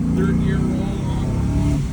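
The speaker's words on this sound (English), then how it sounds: "Third gear roll on." Motor vehicle engine rolling on the throttle in third gear, a steady loud drone rising slightly in pitch over two seconds, with rushing wind noise and a voice talking over it.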